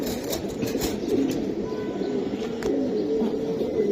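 A flock of pigeons coos in a continuous low, throaty murmur, fairly close and moderately loud, with no clear talk over it.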